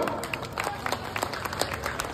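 Audience at a student leader's speech clapping together, a dense crackle of many hands close by that holds steady for a couple of seconds.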